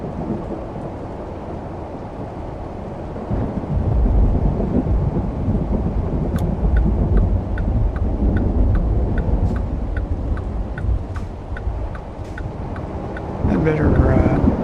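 A thunderstorm with heavy rain and mixed-in hail drums steadily in American Truck Simulator, a loud dense roar with deep rumbling and a run of faint regular ticks on the truck, under someone talking.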